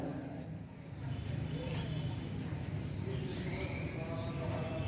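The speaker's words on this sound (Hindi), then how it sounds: "चिड़िया का आवाज" Faint bird chirps drift over steady broadband outdoor noise at a yoga day gathering in Barbil, appearing as a few scattered, distant calls.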